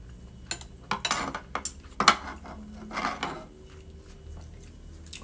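A spoon taps and scrapes against a dish of homemade pelmeni dumplings with garlic sauce and adjika, a series of sharp close clinks in an irregular rhythm with quiet pauses between, no talking.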